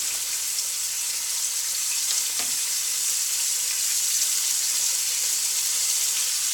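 Meat browns in hot cooking oil with an even, close, continuous sizzle and one faint clink near the start.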